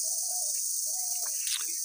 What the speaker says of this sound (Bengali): এখানে একটু পাখির কিচিরমিচির শব্দ শুনি আমরা